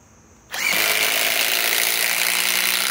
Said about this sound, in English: let's pit it against my Hercules, you know, Hercules 2200 inch pound impact driver